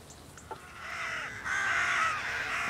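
Agitated jackdaws caw repeatedly over a stubble field, a cluster of harsh calls rising and overlapping, moderately distant and growing busier toward the end.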